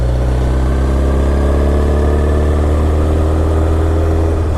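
A motorcycle engine roars steadily at high speed for the whole stretch, a loud, constant drone with strong low rumble and layered harmonics, heard close up while riding through a residential area.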